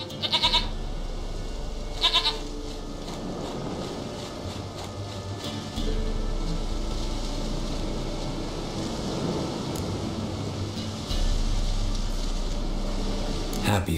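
A goat in a video game bleats in a few short calls over a steady low hum and background game ambience, with the bleats standing out clearly near the start.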